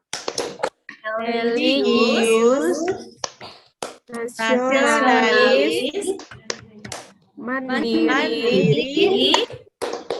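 Primary school children and their teacher chant the Tepuk PPK character-education verses in a classroom, with short bursts of sharp group clapping punctuating the spoken chant in a steady call-and-clap rhythm.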